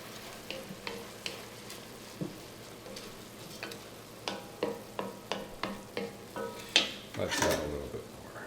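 Mushroom risotto gets stirred in a pan, a soft simmer underneath a run of short scraping spoon strokes that grow quicker and louder toward the end, heard close up and without talk.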